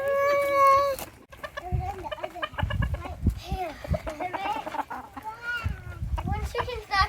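Chickens cluck and call in short bursts alongside a bird's clear repeated chirps, close by, with people talking and shuffling over the top.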